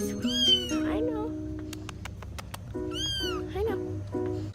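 A newly adopted kitten meows several times, high and rising cries in two clusters, close to the microphone while people talk softly nearby.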